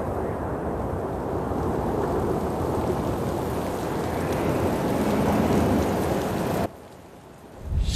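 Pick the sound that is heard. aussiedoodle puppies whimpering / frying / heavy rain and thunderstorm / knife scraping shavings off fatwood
heavy rain and thunderstorm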